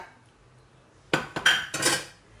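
Sauce poured into a glass baking dish while preparing roasted-eggplant kofta rolls, giving three quick clattering, clinking knocks of glass and utensil in a quiet kitchen.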